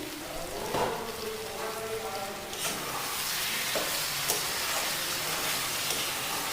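Chicken sizzling and frying in an uncovered pan while being stirred, with a steady hiss, occasional scraping knocks, and a loud, continuous close-up sizzle that builds over time.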